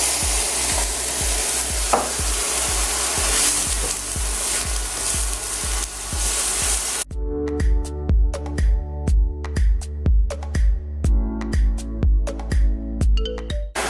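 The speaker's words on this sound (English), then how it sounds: "we can now add in our onions, and we're going to saute these until they are soft" Onions sautéing in heated oil in a pan during plant-based cooking, a loud, continuous sizzle that runs for about seven seconds before cutting to a rhythmic, chiming melody.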